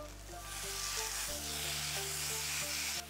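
Strips of steak sear in a very hot second pan for Philly cheese stuffed mushrooms, a loud, steady close sizzle with constant frying crackle and a faint background hum.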